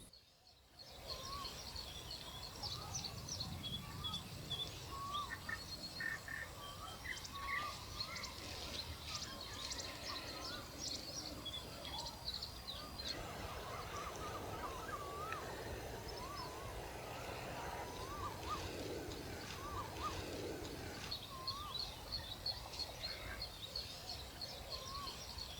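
A Brown Shrike (Lanius cristatus) in Thailand gives faint repeated clicks and short chirpy bursts of mimicked song over a low steady hum of background noise, the calls scattered and fairly distant.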